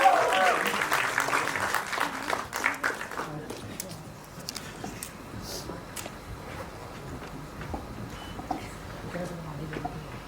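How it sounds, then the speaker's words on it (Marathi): Audience clapping at a Marathi film trailer launch event, loudest at the start and then thinning into scattered claps and murmur, with people talking underneath and some shuffling. "जोरदार टाळ्या त्यांच्यासाठी वाजवूयात"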